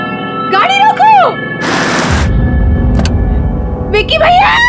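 A car is heard as a low engine rumble with a brief loud rushing hiss partway through, as voices speak over it before and after.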